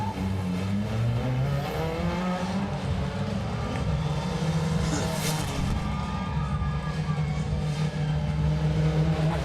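A pickup truck's engine roars steadily and loudly as Reese Millen launches his first-ever backflip attempt, a continuous dense growl with crowd noise underneath.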